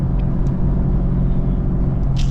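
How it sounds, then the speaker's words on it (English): A Chevrolet Camaro 2SS V8 moving through traffic on Christmas Eve, its engine a loud, steady low rumble close by, with a brief hiss of passing traffic near the end. "the car sounds so crazy, bro"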